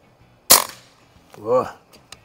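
A Crosman Icon air rifle fires once at dusk, giving a single sharp, close crack followed by a short tail, with a voice briefly heard afterward.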